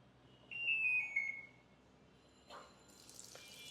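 A Walton WWM-ATP60 automatic washing machine gives a short electronic beep, then after a pause water starts rushing in. The filling hiss swells and holds steady, close by and moderately loud.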